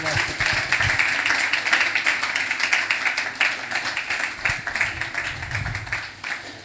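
A church congregation claps for the preacher, dense sustained applause filling the room, loud and continuous throughout, with voices faintly mixed in.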